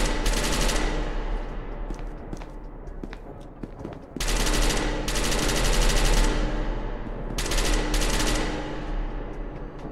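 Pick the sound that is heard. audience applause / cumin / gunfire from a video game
gunfire from a video game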